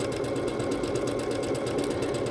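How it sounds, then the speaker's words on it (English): A Bernette B-77 sewing machine runs steadily through a side-to-side decorative stitch, its motor humming with a fast, even mechanical patter close by and no talk over it. "we are continuing to stitch out all of the decorative stitches on the B-77 Bernette"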